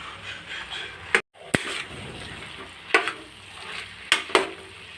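Chicken liver pepper fry sizzles steadily in a pan while a spoon stirs it, with a few sharp scrapes and clinks against the metal, close up and with no talking.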